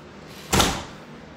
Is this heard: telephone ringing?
no